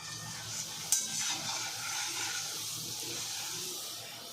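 Urad-moong papad frying in hot oil, a steady soft sizzle with a faint clink near the start, no voices.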